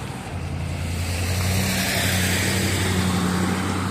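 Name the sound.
truck passing by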